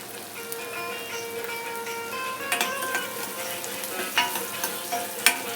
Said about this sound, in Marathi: तेलामध्ये कांदा आणि लसूण टाकलंय आणि परतून घेते चांगलं.